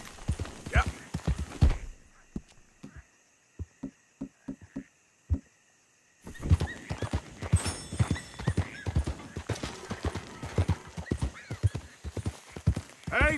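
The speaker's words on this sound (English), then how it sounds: "That's a fine horse you got there." A horse's hooves clip-clop along in Red Dead Redemption 2, steady close hoofbeats, first sparse and clear with a whinny, then continuing under people talking.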